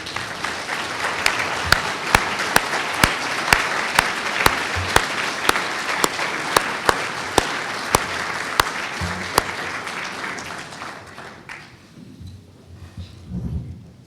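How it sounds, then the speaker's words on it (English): A graduation audience applauds the school staff, filling the room with sustained clapping punctuated by a steady series of sharp, evenly spaced claps that carry over the noise before the applause fades away near the end. "would you stand, please, for a round of applause?"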